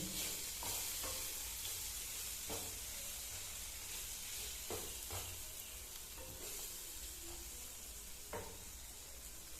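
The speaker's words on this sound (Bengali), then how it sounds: "এটা যতক্ষণ ভাজা হয়ে যায়" Turmeric, chili and cumin sizzle steadily in hot oil in a pan for a vegetarian ghugni, with intermittent scrapes and knocks of stirring over the constant frying hiss.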